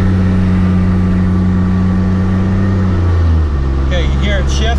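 A Cummins diesel truck accelerates on an open road and its engine note drops as the transmission shifts gear, a loud steady low drone changing pitch partway through, with faint high chirps near the end.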